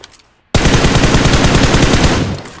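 Rapid sustained automatic gunfire from the mobile battle royale game PUBG Mobile bursts in loudly after a brief quiet moment and rattles on continuously, heard alone without talk.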